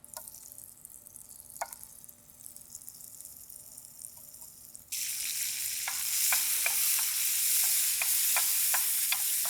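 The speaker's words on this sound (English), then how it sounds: "I'm just going to saute a little bit of cauliflower." Cauliflower sautés with carom seeds in hot oil, starting as a quiet pan with a few light ticks before a sudden burst of loud, sustained sizzling punctuated by repeated stirring scrapes and pops.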